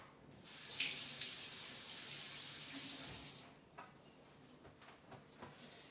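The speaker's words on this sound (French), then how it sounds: "je me lave les mains." A kitchen tap runs into a sink while hands are washed under it, a close steady rush of water for about three seconds. Soft clatter and handling sounds follow once the water stops.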